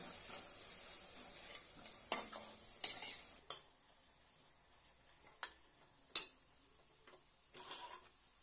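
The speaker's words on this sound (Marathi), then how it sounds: "छानपैकी परतून घेऊया।" Irregular scrapes and taps of a spatula stirring bottle gourd in a pan, sharp knocks separated by quiet gaps with a faint sizzle.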